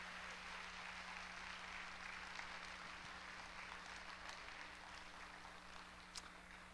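A church congregation claps to encourage children as they walk in. The applause is faint and distant, a continuous patter over a steady electrical hum, with no voices.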